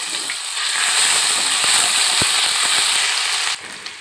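Onion paste lands in hot oil in a wok and sets off a loud, close, even sizzle with a few sharp crackles and pops, which eases off just before the end.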